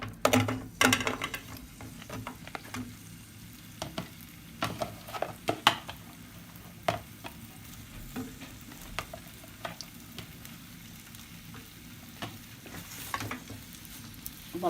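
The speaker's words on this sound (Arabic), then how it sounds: "يظل تقليب مستمر" Dates frying in hot oil sizzle under continuous stirring, with frequent scraping clicks and knocks from a spoon against the pot that come in irregular bursts over a steady frying hiss.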